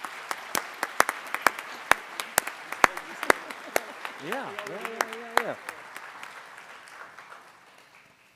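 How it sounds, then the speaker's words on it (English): A small audience at an evening education awards celebration claps, with sparse, distinct hand claps that thin out and fade, and a voice speaking briefly midway. "let's give all these people a round of applause"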